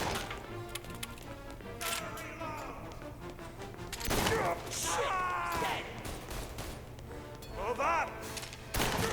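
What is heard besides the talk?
gunfire in a firefight, Mafia Definitive Edition video game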